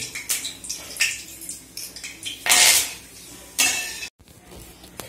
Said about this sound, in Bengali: কারি পাতা কড়াইয়ে দিলে এরকম চটকাবে।